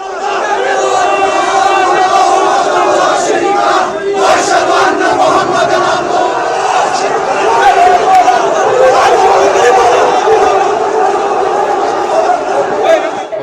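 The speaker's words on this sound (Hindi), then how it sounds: "भीड़ और सुरक्षा बलों में झड़प हुई" Protesters clashing with security forces at a street demonstration, a loud, dense crowd roar of shouting and chanting voices sustained throughout, with overlapping cries and chatter.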